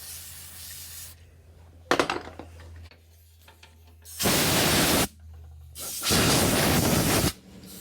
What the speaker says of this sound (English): I'll clean the guide hole with spray clean.